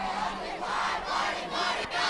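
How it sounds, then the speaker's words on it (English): At a Guthrie versus Lawton Ike high school football game, the stadium crowd roars and cheers in rising, swelling waves, a loud mass of voices without clear words. "Crowd getting into it."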